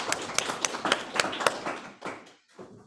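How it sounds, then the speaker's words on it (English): A small in-person audience at a weaving talk gives a brief round of clapping, with distinct separate claps from a few people that thin out and fade within a few seconds. "Maybe we can do an in-person round of applause"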